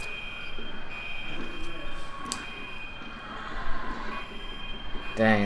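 A fire alarm blares inside a high school basketball gym during a Chino Hills versus Upland game, a steady high-pitched tone droning continuously beneath loud crowd chatter and court noise, with a brief rapid pulsing burst at the very end.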